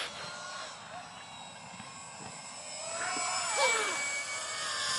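A small RC model airplane engine buzzes at about three-quarter throttle, a thin high whine heard from a distance that swells and shifts in pitch as it passes, with faint background voices.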